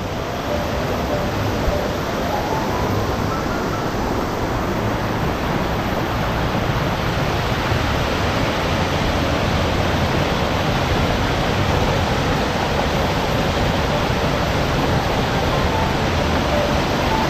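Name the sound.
rain falling at Ton Tae Waterfall, Thailand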